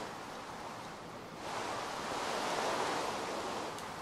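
Steady broadband rain hiss from a Minecraft rainstorm, swelling louder about a third of the way in and holding as a continuous wash with no voices.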